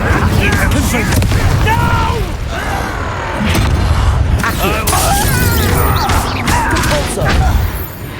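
Incendio fire spell cast in Hogwarts Legacy, a loud whooshing burst of flame with crashing impacts and a rumbling low boom, followed by further roaring and swirling magical effects over a heavy game soundscape.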